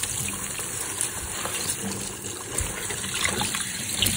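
Water splashes steadily onto Outdoor Vitals women's Satu adventure pants, a continuous close spattering and trickling with no breaks or voices.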